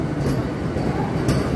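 An AC local train in Kolkata pulls out of Barrackpore station, a steady rumble and rolling noise heard from inside the carriage, continuous and fairly loud.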